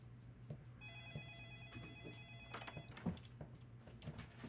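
A telephone rings in the video game Gone By November, a repeated electronic bell-like tone sounding at moderate distance over a low steady hum, with a few clunks and knocks around it.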